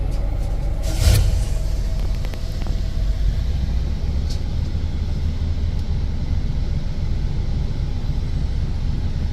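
A wheel loader scoops crushed rock at a stone-crushing quarry in Surin, Thailand, its steady, loud engine rumble running throughout, with a brief sharper clatter early on.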